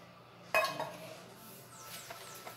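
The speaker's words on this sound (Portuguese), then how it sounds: "Mexer bem, gente, pra não ficar nada granuladinho aqui, tá?" Homemade liquid coconut soap being stirred in a pot, starting with a sharp clink of utensil against metal, then softer scraping and occasional faint taps, close and moderately quiet, with no talking.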